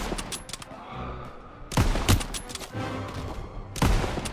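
Gunfire in Call of Duty WWII, with several loud, sharp shots and rifle bursts separated by brief pauses, set against continuous battle noise.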